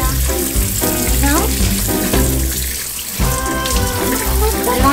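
Water gushes from a tap in a steady, splashing stream while a puppy is bathed, the flow shifting slightly as it strikes a surface below.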